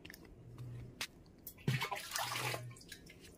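Water scooped from a drum splashes and pours during outdoor washing of hands and face, coming as a few separate close splashes with a fuller pour in the middle and soft drips between.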